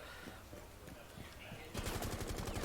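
Gunfire in Rainbow Six: Siege, a rapid burst of automatic shots that cuts in abruptly partway through, loud and crackling over quieter game ambience.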